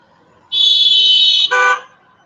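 A car horn on a street sounds twice up close: one long steady blast of about a second, then a shorter, harsher honk right after it, over quiet background.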